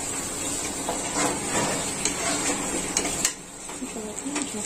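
A spoon works through boiled meat curry in a pot with soft scraping and clinks, steady and close, with no voices over it.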